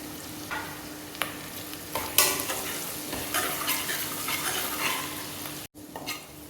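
Ginger garlic paste fries in a pan for mutton gongura, a steady close sizzle with stirring scrapes and a brief sharp cut-out near the end; no talking.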